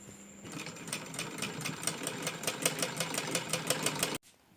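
A sewing machine runs close by, stitching the folded hem of a kurti in a fast, regular rattle of needle strokes. It starts after a brief pause and stops sharply at the end.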